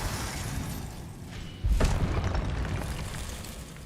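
In Hogwarts Legacy, the Confringo spell sets off a single deep, thudding blast that cuts through a steady background rumble and trails off into a low roar.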